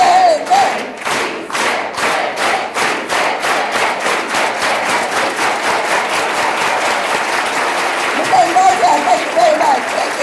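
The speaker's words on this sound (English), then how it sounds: "let's do it with an organized hand clap" A large crowd at a César E. Chávez celebration claps in unison at a brisk, steady beat while loudly chanting "Sí se puede" together, with cheering voices throughout.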